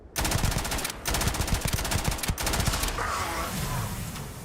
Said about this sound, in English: Vou dar um tiro nele de AK